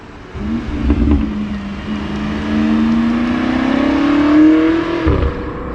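A BMW M8 Competition engine climbs steadily in pitch as it accelerates away onto a Formula One track in India, a smooth rising whine over low rumble, then cuts off abruptly.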